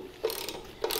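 A hand ratchet tightens the spring plate bolts on a VW swing axle, two quick close rasping clicks about half a second apart.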